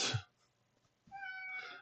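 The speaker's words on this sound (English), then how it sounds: "My cat found a way into my room." A house cat gives a short, close meow, then after a pause a longer, clearer meow with a bright rising tone.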